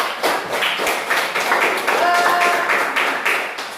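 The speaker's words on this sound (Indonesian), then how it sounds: "Berikan aplaus." Students in a classroom clap together in a steady dense round of applause, close and loud, with a voice briefly heard over it.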